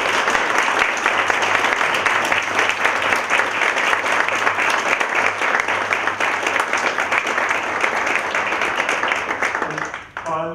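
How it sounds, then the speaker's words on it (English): A crowd applauds steadily and warmly for about ten seconds, a dense, even wash of clapping that fades slightly at the end. "give them a warm round of applause"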